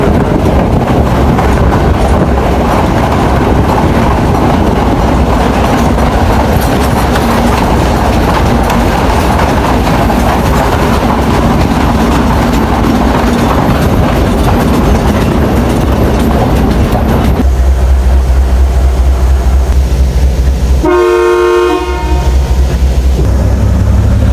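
A loud, continuous rumble of a train rolling along the tracks on the Colombo to Batticaloa railway in Sri Lanka, steady and close, with the tone shifting and thinning near the end.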